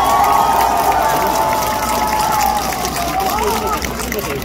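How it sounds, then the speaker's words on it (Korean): A crowd at a Busan rally denouncing the Yoon Suk-yeol government cheers and applauds steadily. The noise is loud and continuous, with shouting voices mixed into the clapping throughout. "박수 한번 부탁드립니다."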